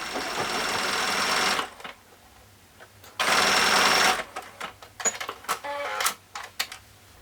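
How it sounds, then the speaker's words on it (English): A sewing machine stitches a tube of stretchy fabric in two long, steady runs of close, even buzzing, followed by short clicks and taps of handling. "put the presser foot inside of the tube and then sew around"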